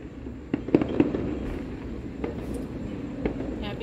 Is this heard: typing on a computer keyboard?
no